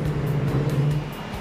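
A race car roars down a straight at about 250 in Gran Turismo 5, a steady close engine drone with a low hum underneath, continuous and without pauses.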